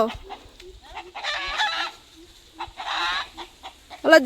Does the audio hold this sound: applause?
no